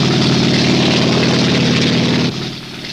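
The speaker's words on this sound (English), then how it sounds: "the Castrol ambulance helicopter lifts off." A Castrol ambulance helicopter lifts off at the Isle of Man TT races, steady loud rotor and engine roar close by, holding level for a couple of seconds before dropping slightly in pitch and volume near the end.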